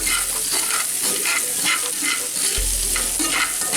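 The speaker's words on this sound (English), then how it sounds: "We're gonna have some stir fry in a minute" Shrimp stir fry sizzles steadily and loudly in a pan, a continuous bright frying hiss with repeated stirring scrapes and no talking.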